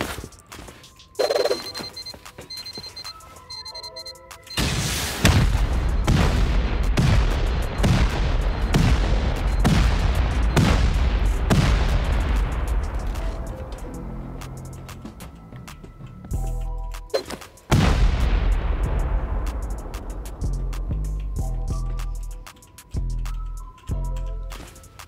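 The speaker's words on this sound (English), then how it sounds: "We've got C4 and rockets to do it with." Explosions from C4 and rockets blasting through base walls during a raid in a video game: a rapid barrage of heavy booming blasts with long rumbling decays, a pause, then another volley of loud detonations.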